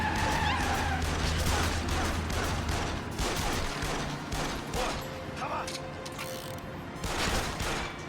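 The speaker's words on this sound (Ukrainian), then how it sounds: "Вони стріляють." Continuous rattling bursts of automatic gunfire with mechanical clatter in Yakuza Kiwami, dense and loud, mixed with game sound effects and a voice talking over it.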